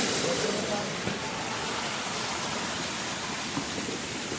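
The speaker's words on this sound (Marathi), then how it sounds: "हा एक छोटा धबधबा आहे" A small waterfall on a hillside outing pours steadily, a dense, even wash of falling water filling the scene at close range without a break.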